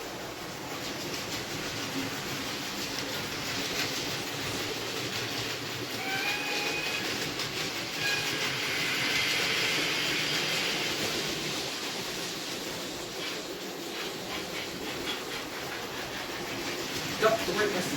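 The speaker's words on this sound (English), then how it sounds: "So Percy is on the milk train." A model train rumbles steadily along a track with a continuous rolling clatter, faint high squeals drifting in midway and a brief louder click near the end.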